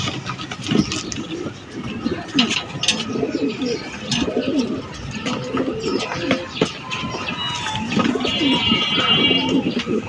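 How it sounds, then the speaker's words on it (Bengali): Pigeons coo in steady, repeated low murmurs close by, with other bird calls and a faint engine in the background. "কবুতরের বেবি।"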